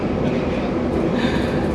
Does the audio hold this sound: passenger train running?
yes